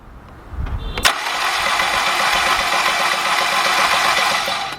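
A Volkswagen/Audi engine cranks during a compression test. A click comes first, then a steady, loud, even churning whir from the starter that holds for several seconds, close up, with no talking.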